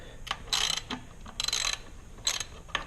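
Ratchet loosening 10 mm throttle body bolts on a Hyundai Genesis Coupe 3.8: three bursts of quick ratchet clicking, close and fairly loud, separated by short pauses with a few light tool taps.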